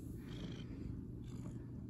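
A pet cat purrs in a low, continuous rumble held steadily throughout. The purr is soft but close, with no other sounds.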